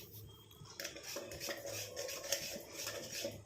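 A spoon stirs a heated hair dye mixture in a metal pan, producing faint, repeated scraping and clinking close by, with no talking.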